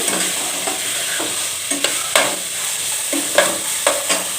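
Diced potatoes and carrots sizzle in an oiled pan while a spoon stirs them, scraping in irregular knocks over a steady frying hiss.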